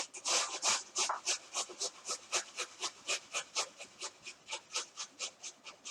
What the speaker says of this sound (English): So I'm just going to go ahead and grate my garlic.